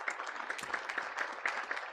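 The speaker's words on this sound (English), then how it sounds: "Please give her a round of applause." Faint, distant round of applause from a conference audience at an ILO regional gathering, a brief, even patter of many hands clapping.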